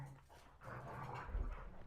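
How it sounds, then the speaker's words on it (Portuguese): Household dogs panting and shuffling about close by, with soft breathy pants and light movement noises running steadily through the short moment. "Esses cachorros são a alegria de casa aqui, ó."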